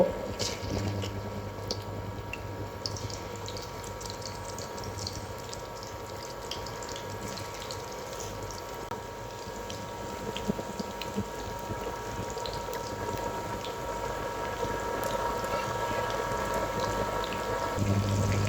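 Cabbage pieces fry in hot oil in a home kitchen, a steady close hiss and crackle of bubbling oil running throughout with no talking.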